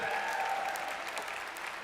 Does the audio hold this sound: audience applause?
yes